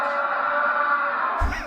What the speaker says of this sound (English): that's an awesome scream